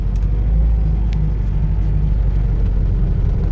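A 1983 Toyota Corona with a five-speed gearbox drives along on a test drive, a loud, steady low engine rumble and road noise from inside the car, with no talk.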